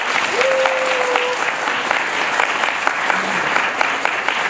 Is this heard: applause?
yes